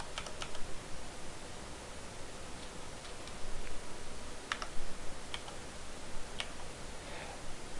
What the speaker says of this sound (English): Go ahead and type in the appropriate password.